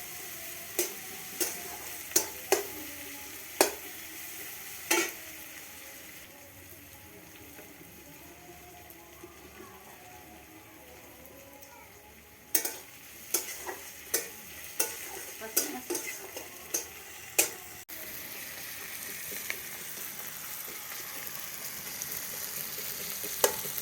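Onions fry in oil for a pumpkin flower dish, a steady soft sizzle punctuated by sharp clicks and scrapes of a spatula stirring the pan, with clustered taps near the middle and no talking.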